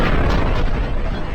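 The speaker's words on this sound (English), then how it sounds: "it collapses, triggering a supernova explosion" A deep, continuous booming roar of a supernova explosion rendered as a sound effect, loud and dense throughout, with heavy low rumble and no voices.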